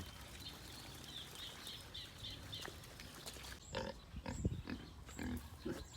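Piglets feeding at a crowded trough, with soft grunts and snuffling close by, shuffling bumps, and faint high chirps in the background.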